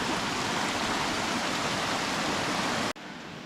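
A creek runs right beside a campsite in Great Smoky Mountains National Park, a steady, full rushing of water that cuts off abruptly near the end.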